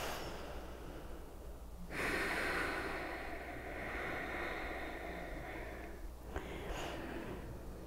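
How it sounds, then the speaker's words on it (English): Slow, deep yoga breathing during a held pose, a soft airy inhale swelling and a long exhale, quiet and close over a faint room hiss, with a second breath starting near the end. "5 deep breaths here."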